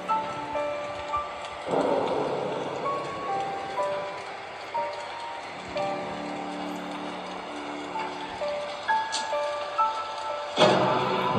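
Steady rain hisses in the video game Slendrina 2D, broken by rolling thunder cracks near the start and again near the end, with sustained musical tones running underneath.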